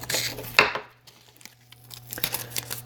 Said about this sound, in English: now we can peel our tape off